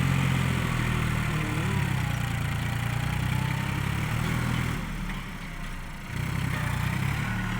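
A New Holland TT3.50 tractor's diesel engine chugs steadily while pushing a pile of soil, a loud, close, low rumble that dips briefly in load before returning to full throttle.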